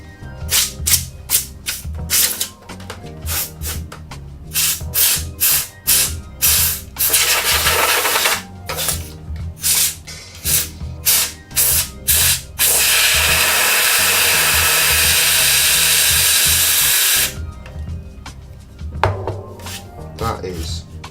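Bursts of compressed air blown into a PS3 console during cleaning: rapid sharp puffs at first, then a long steady hiss lasting several seconds, followed by a few more short blasts.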